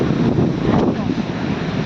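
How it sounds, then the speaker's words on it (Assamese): Wind gusting with rain in an Assam village during flooding, a dense, continuous broadband roar with rough microphone buffeting that holds steady throughout. "বতাহ মাৰি আছে বৰষুণো দি আছে"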